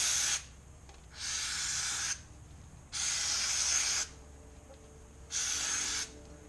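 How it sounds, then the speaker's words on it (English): Four loud bursts of aerosol parts cleaner spray hiss, each about a second long with short pauses between, close by, washing out a trailer hub. "wash this out with some spray"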